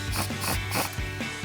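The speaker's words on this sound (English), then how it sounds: "we're going to be using a 10mm socket for our top bracket and a 12mm down" A hand ratchet with a 10mm socket clicks in quick repeated bursts while tightening the top suspension bracket bolts on a Toyota Tacoma during a leveling kit install, close and clear with no talk.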